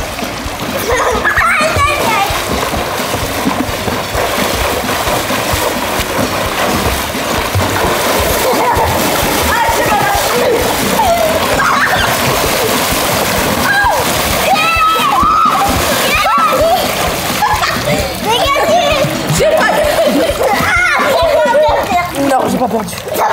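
Children splash and thrash through a swimming pool during a race to the far end, continuous loud churning water and sloshing with kids shouting and talking throughout.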